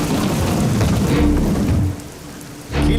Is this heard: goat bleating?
no